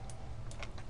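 A few faint keyboard key presses for an Excel shortcut, light clicks spaced irregularly over a steady low background hum, no speech.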